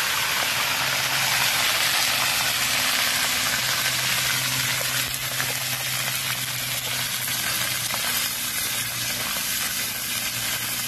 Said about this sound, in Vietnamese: chiên sơ qua để cho con ba khía nó giòn nha các bạn